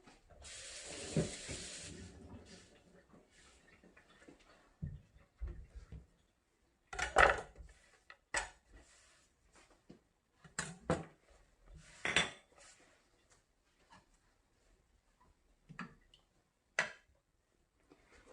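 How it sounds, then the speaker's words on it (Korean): A knife and cutting board being washed in a kitchen sink, a brief rush of running water followed by scattered clatters and knocks of utensils and board, fairly close and intermittent. "이제 도마를 한번 칼하고 도마 씻어 줄게요"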